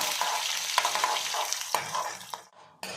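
Chana dal, urad dal and cumin crackle in hot oil for a hotel-style masala dosa filling, a close, busy sizzle with sharp stirring scrapes, cutting off briefly near the end.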